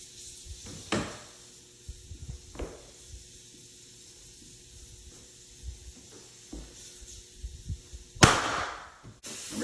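Pneumatic nail gun at 90 psi driving nails into a bedroom floor, a few sharp percussive bangs spaced seconds apart over faint background hum, the last shot loudest with a brief hiss of air.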